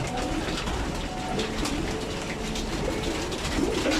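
Pigeons coo softly and repeatedly while feeding on wheat and mixed grain, their low, throaty calls overlapping at moderate volume over a steady background hum.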